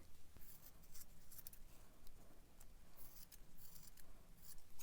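Scissors trimming the yarn of a crochet bunny slipper, giving repeated faint, soft snips close by against a quiet background, with no one speaking.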